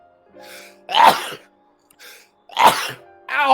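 A person sneezing repeatedly, three loud close sneezes with short gasping inhales between them, about a second and a half apart.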